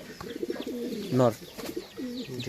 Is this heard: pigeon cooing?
yes